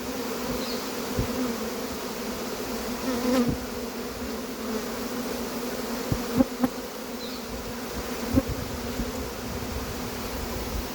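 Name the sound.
swarm of honeybees buzzing into a cardboard box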